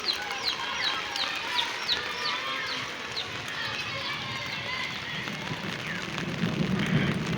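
Steady rain falls outdoors in a Padma riverside village, a dense even hiss throughout, with chickens clucking and a rooster calling nearby and a faint voice in the background.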